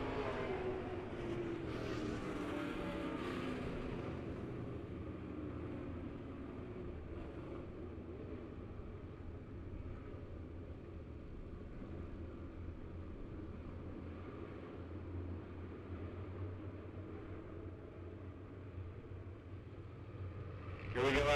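Race cars in a heat race at Lebanon Midway Speedway roar out of turn four, a continuous engine rumble with an announcer talking over it.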